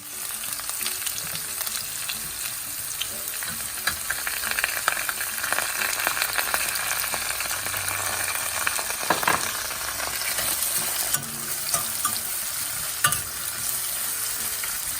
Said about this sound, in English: We have to brown these onions, so they're gonna take a little time.